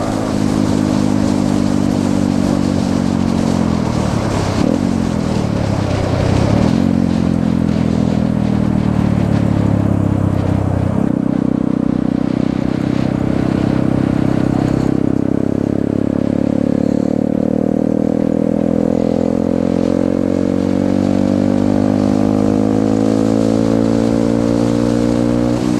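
A Honda Grom motorcycle rides along a road, its small engine revving up and down through several gear changes, pitch climbing and dropping, then settling into a steady loud drone as speed builds.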